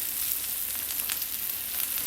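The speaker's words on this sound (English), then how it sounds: "we put our peppers on, our onions. Cook that up." Peppers and onions for a Philly steak and cheese sandwich sizzling in a pan, a steady bright hiss of frying that runs unbroken throughout.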